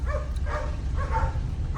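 Dogs bark and yelp in short bursts, a few barks spaced across the moment, heard at moderate distance over a low background hum.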